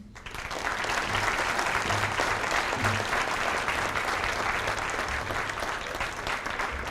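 A banquet audience at the 2018 Eastern New Mexico Hall of Honors gives inductees a big, sustained round of applause, dense and even throughout with no voices over it.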